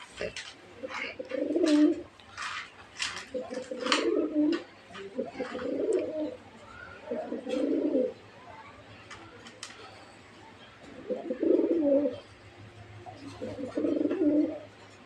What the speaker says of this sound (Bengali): সম্পূর্ণভাবে কবুতরটা জোড়ায় আবদ্ধ হয়েছে